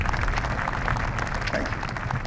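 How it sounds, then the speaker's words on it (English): Audience applause for military veterans at a Navy commissioning commemoration ceremony for the USS Delaware, a steady wash of clapping from a large crowd that holds even for the whole stretch. "Just give them a great round of applause for our veterans."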